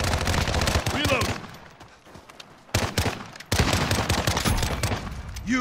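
Rapid bursts of automatic gunfire in the Call of Duty: Modern Warfare video game, loud and close, with a short lull and then dense sustained fire, while voices talk over it.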